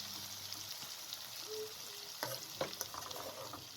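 Egg masala curry sizzles softly in a pan as it is gently stirred, a quiet continuous hiss with a few brief scraping clicks near the end.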